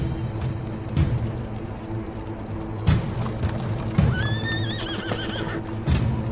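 Horses neigh and whinny over a steady clip-clop of hooves in a tense outdoor scene; two clear whinnies rise and fall near the middle, with hoof thuds and rumbling ambience throughout and no talking.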